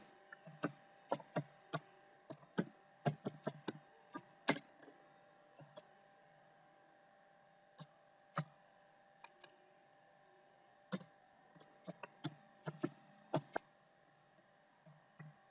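Someone types on a computer keyboard and clicks a mouse, making sparse, light, close clicks and taps in irregular clusters over a low steady hum.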